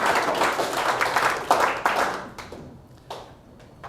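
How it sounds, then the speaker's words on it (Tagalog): A church congregation claps together, a dense, loud burst of many hands that thins out toward the end, leaving a few scattered claps. "Malakas nga ng palakpak para sa Panginoon!"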